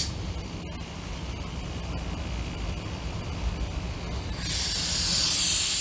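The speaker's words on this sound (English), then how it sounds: "I am kind of depressed that this air compressor isn't pressuring up very good." An air compressor runs continuously during a boiler loop project, a broad steady hiss and rumble filling the scene, with a brighter, louder hissing surge rising near the end.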